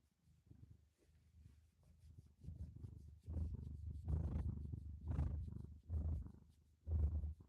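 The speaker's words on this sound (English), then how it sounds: "I can let you hear her purring" A cat named Peach purrs close to a microphone, a low rumbling purr in rhythmic breathing pulses that grows louder partway through, with no talking.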